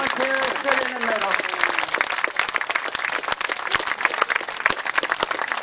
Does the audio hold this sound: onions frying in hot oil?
no